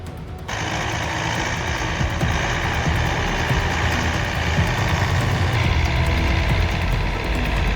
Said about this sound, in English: It uses its full power to pull the other tractor all the way back home.